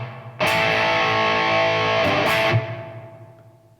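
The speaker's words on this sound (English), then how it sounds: "A good plate reverb definitely mixes well with a nice lead sound like this." A sustained, distorted electric guitar note rings out with a wide plate reverb, then is cut off and leaves a long, smooth reverb tail fading away.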